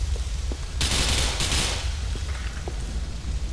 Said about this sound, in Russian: Ну-ка, если, кстати, выстрелить в телек.